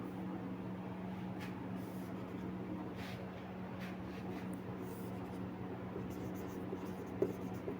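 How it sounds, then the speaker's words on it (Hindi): Marker or chalk writing on a board during a Hindi lesson about the Big Bang, faint scratchy strokes over a steady room hum. "यहाँ लिख दे रही हूँ"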